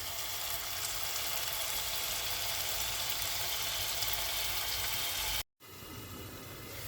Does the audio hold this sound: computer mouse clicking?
no